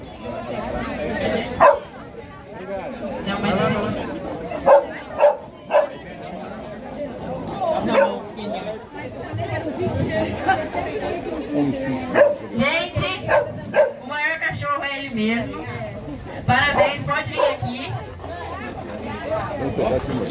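Dogs bark and yip intermittently at an outdoor dog walk event in Paiol do Bispo, Artur Nogueira, mixed with steady crowd chatter and a person talking over a loudspeaker throughout.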